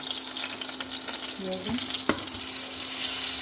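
Fish pieces fry in hot oil for a masala curry, a steady bright sizzle with a few clinks and stirring sounds mid-way, no voices.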